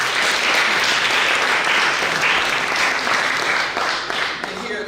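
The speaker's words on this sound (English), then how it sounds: "Let's give them another big applause." An audience at a support gathering for Congressman Keith Ellison in a private home breaks into dense, loud, sustained applause that carries on for several seconds before tapering slightly.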